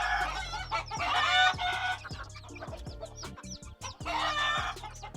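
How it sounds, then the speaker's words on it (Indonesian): Kukuak Balenggek rooster, a red junglefowl and village chicken cross, crowing in long multi-stepped calls, loud and close, with clucking between crows and no talk. "ayam kukuak Balenggek merupakan hasil persilangan ayam hutan merah dengan ayam kampung sehingga menghasilkan suara yang khas"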